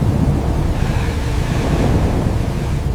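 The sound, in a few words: rain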